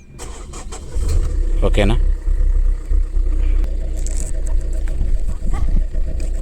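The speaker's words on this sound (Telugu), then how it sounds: "ఒకసారి ఇంజన్ స్టార్ట్ చేసి చూపిస్తా, మీకు ఎట్లా ఉంటుందో తెలుస్తుంది." A 2022 Tata Altroz XZ engine cranks and catches, then settles into a steady low idle, loud and close, while someone talks over it.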